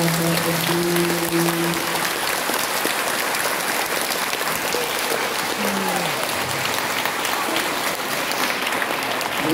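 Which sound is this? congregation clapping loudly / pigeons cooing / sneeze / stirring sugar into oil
congregation clapping loudly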